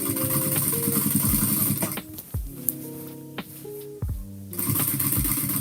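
A sewing machine stitches the binding on a self-binding quilt, whirring in close mechanical runs that stop briefly and start again, with no speech.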